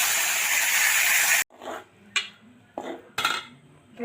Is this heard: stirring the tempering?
yes